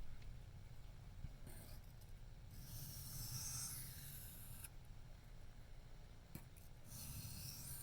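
A Benchmade Mini Griptilian knife edge is sharpened freehand with quiet, soft rasping strokes in a few separate bursts over a faint hiss, and no one speaks.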